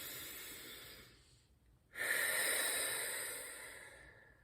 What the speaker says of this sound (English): taking in massive inhales and massive exhales